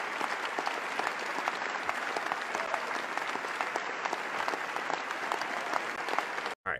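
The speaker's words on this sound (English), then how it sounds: "Let's get a round of applause for the nudity." Dense, steady applause from many hands, a continuous even crackle lasting several seconds before cutting off abruptly.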